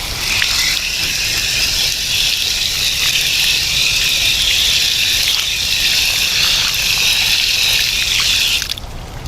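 Water poured to moisten play sand in a plant pot, a loud, close, continuous rushing stream lasting about nine seconds before it suddenly stops.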